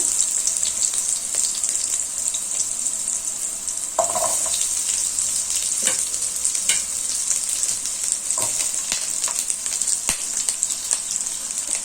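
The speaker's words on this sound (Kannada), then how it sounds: "ಎಣ್ಣೆ ಕಾದ ನಂತರ ಒಂದು ಮೂರು ಈರುಳ್ಳಿಯನ್ನು ಕಟ್ ಮಾಡ್ಕೊಂಡಿರೋದು ಹಾಕ್ಕೊಳ್ತಾ ಇದ್ದೀನಿ" Three chopped onions fry in hot oil for a village-style egg sambar, a dense, continuous close hiss and crackle with scattered stirring clicks throughout.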